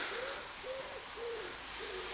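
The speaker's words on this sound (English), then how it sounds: "birds are singing." Birdsong in a Japanese garden at Compton Acres near Poole, Dorset, on a spring morning: four soft, evenly spaced hooting or cooing calls, faint and distant over quiet outdoor air, with no talking.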